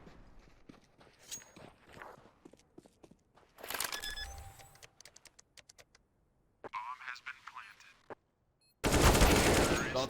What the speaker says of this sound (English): Shots coming out.